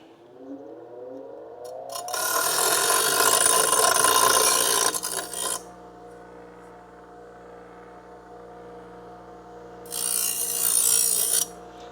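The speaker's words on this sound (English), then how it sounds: "I'm just gonna put this on the bench grinder real quick and we're gonna just get rid of all the burr" Bench grinder deburring a metal part for a Crew Cab Charger restoration: a loud, steady grinding rasp for about three seconds, a quieter motor hum with a whining spin-down, then a second short grind.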